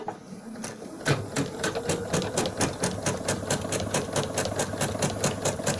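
A sewing machine stitches machine embroidery on a handmade New Year's boot at low speed. It starts after a brief quiet moment, then runs steadily with an even rapid mechanical clatter of needle strokes, close and clear.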